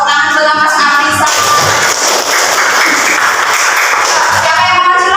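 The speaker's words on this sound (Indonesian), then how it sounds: "Tepuk tangan buat Mas Afisa." Audience in an Indonesian teacher-training class clapping in sustained applause, a dense continuous patter of many hands lasting several seconds, fairly loud and close, with faint voices mixed in.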